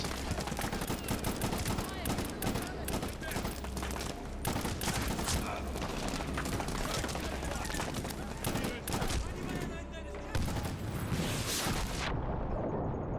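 Rocket launcher blasts and heavy gunfire from the Medal of Honor Warfighter video game roar in dense, continuous bursts of booms and rattling shots. The barrage breaks briefly near the end.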